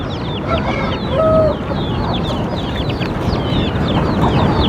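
Indian chickens and roosters cluck and chirp busily around a coop area, many birds calling at once in a dense, close chorus with occasional longer calls.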